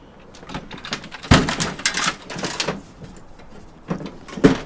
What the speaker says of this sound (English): just want to get the drawer open.